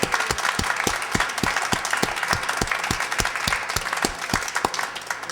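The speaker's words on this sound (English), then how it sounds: "And now the biggest applause of all for you" Applause from an audience at an evening event, steady dense clapping throughout with sharp, regular claps standing out near the front, loud and sustained with no talk.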